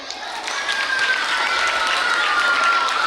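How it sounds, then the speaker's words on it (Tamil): Applause for a teacher at a government school Safety Day celebration, a crowd of hands clapping steadily for a few seconds, with some voices mixed in. "அனிஷா மேம் ஒரு கைத்தட்டல்"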